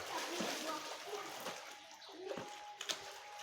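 Swimmers splash in an outdoor swimming pool, with irregular sloshes and a few sharper splashes at a moderate distance, while children's voices and other chatter carry faintly underneath.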